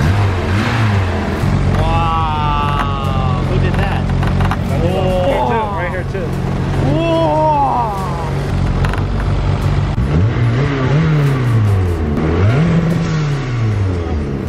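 A big-turbo widebody car engine revs hard nearby, the pitch repeatedly climbing and dropping in loud, sustained sweeps that fill the whole stretch.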